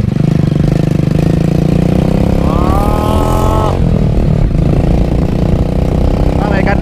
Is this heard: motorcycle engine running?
yes